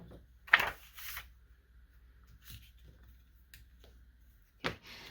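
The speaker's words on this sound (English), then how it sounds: "I am making my first fold in the middle of that paper." Textured paper is folded in half: a few short, soft crinkling rustles and a crisp crease sound against a quiet room, with a louder paper swish near the end.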